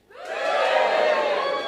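A comedy club crowd bursts into loud cheering and whooping, rising quickly and holding as a sustained roar of many voices.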